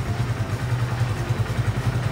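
A new motorcycle's engine starts and idles steadily with a low, even putter and faint mechanical clatter, close by.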